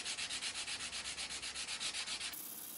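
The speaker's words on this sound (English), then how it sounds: "I'm going at different angles across the spine with the sandpaper" Rhythmic back-and-forth scrubbing of sandpaper along the spine of a knife made from a farrier's rasp, about a dozen even strokes, close and alone, ending in a softer rub.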